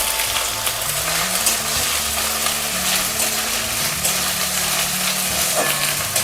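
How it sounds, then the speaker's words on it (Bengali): Ginger and green chillies fry in a pan as they are stirred, giving a steady close sizzle with light scraping, no one talking. "আদা আর কাঁচা লঙ্কাটা দিয়ে একটু নাড়াচাড়া করে নিই।"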